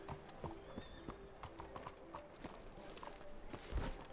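Horse hooves clip-clop steadily in Red Dead Redemption 2, a rhythmic string of close, moderately loud footfalls with the odd snort over ambient game sound.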